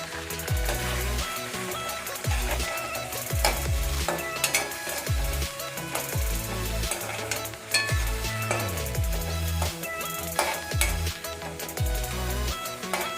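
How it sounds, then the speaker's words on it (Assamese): Onions sizzle steadily in leftover fish-frying oil for an Assamese prawn curry, with repeated spatula scrapes and stirs against the pan at a regular rhythm, close and alone without talk. "মাছ ভজা তেলখিনিতে মই এতিয়া পিয়াজখিনি দি অলপমান ভাজি ল'ম"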